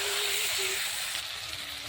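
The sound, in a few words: duck meat added to fried onion and tomato, sizzling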